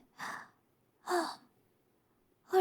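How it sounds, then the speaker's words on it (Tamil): Heavy breaths come after running, three breathy exhalations spaced about a second apart with silence between, close to the microphone. "ஓடி வந்ததில் மூச்சு வாங்குது."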